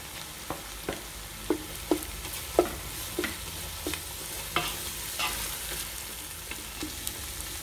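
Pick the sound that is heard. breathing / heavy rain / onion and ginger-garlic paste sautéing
onion and ginger-garlic paste sautéing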